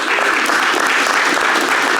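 A seminar audience at a mixed martial arts gym claps loudly for a promoted student, a dense, continuous burst of applause close by.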